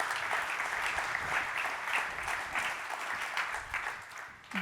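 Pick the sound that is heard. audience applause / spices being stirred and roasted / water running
audience applause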